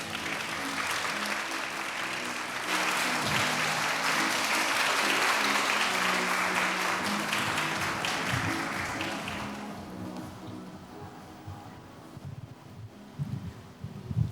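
Audience applause welcoming a speaker to the stage at a formal opening ceremony, steady hall-wide clapping that swells, then tapers off into scattered claps and quiet room noise.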